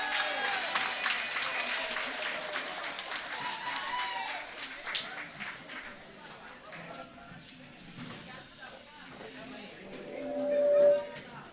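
An audience at a women's forum celebrating 40 years claps to welcome a guest speaker, with dense applause filling the first half before fading as voices and talk carry on.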